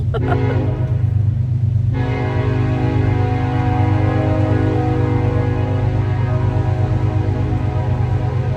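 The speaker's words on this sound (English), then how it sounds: "Oh my word, that's the train whistle." A loud, sustained train horn blares continuously, a deep steady chord that holds throughout with a brief shift in tone near the start.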